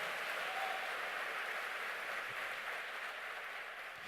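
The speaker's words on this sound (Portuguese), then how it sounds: "Se é para Jesus, aplauda mais forte" A church congregation claps during a sermon, heard as a steady, distant, faint hiss of applause with no clear breaks.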